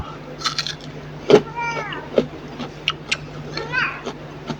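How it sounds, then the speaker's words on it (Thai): A cat meows several times, short rising calls scattered across a few seconds, close by, mixed with people talking softly nearby. "เขาคุยด้วยนะแมว"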